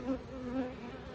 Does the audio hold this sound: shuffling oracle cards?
no